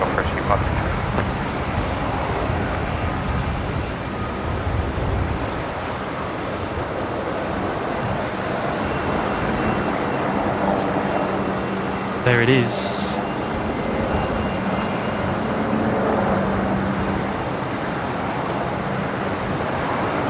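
Rescue aircraft taking off from Brisbane Airport on the parallel to runway 19 left, a steady distant engine roar building slightly, with a person speaking briefly nearby.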